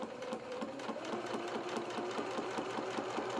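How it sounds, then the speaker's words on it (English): A sewing machine stitches down the side of a lined doll jacket with tails, a close, steady rapid mechanical whirr and clatter running without pause. "I'm going to sew down this other side here, all the way down to the bottom"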